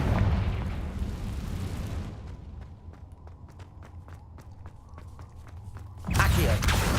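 Confringo fire spell bursts in Hogwarts Legacy, a heavy booming blast followed by a run of sharp crackling pops, then another loud burst at the end.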